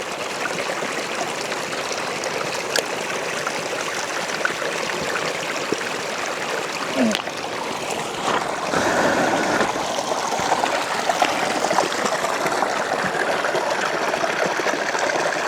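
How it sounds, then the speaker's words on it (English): A small woodland stream spills over a mini waterfall among quartz-bearing rock, giving a steady, close rushing and trickling wash that grows slightly fuller partway through, with no voices. "Little mini waterfall."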